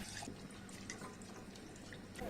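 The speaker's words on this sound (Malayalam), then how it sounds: "വെള്ളമാണ് ഒഴിച്ചു കൊടുക്കുന്നത്." Water poured into a pressure cooker pot of Kerala-style white chickpea curry, a steady close splashing pour that runs unbroken for a couple of seconds.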